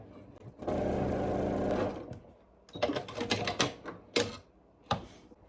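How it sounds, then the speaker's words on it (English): A sewing machine stitches crazy quilt block fabric, starting with one sustained burst of rapid mechanical whirring, then several shorter stop-start bursts and clicks, all close and clear. "I mean, sew it in place"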